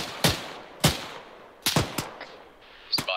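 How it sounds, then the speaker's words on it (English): Gunfire in an Arma military game mission, a handful of sharp single shots spaced about half a second to a second apart, each with a short echoing tail, close and loud. "Keep shooting there"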